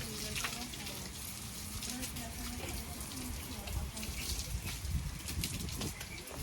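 A hose sprays water steadily over a horse, a broadband hiss and splash running throughout under a French-speaking voice.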